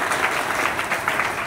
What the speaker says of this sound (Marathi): त्या सर्व गायक मंडळीचे सुद्धा टाळी वाजवून स्वागत करू.